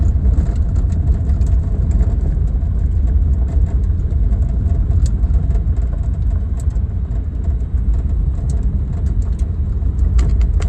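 A 1959 Edsel Ranger driving in low gear gives a loud, steady engine drone with a dense low rumble and constant road noise, heard from inside the car without a break.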